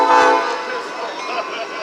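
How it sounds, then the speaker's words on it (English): A passing train sounds its horn loudly up close, then a broad rolling rumble of the rail cars continues, with a voice speaking over it. "This train's gonna take forever."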